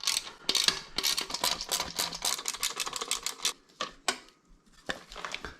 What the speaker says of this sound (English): you're just going to unscrew each of these 3 10 mil screws.